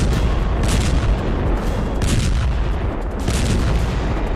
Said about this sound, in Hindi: खान यूनिस में हर जगह जबरदस्त बमबारी कर रही है।